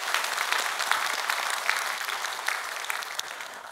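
A church congregation claps together to honour an elder at an early-morning service, a steady crowd applause of many hands that is moderately loud and continuous throughout, with no talking.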